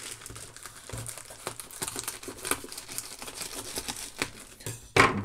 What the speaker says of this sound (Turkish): Öncelikle ben şuradan paketi yarıyorum.